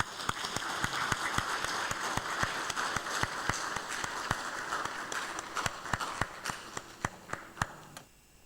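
Audience applause after a talk at an international engineering, science, technology and entrepreneurship conference: dense steady clapping from a large room that thins into scattered individual claps near the end.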